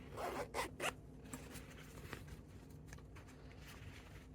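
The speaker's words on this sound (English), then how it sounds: "zip your zipper up" An invisible zipper on a sewn garment is drawn closed, a few quick rasping pulls at the start followed by softer, faint zipping scrapes, close and quiet.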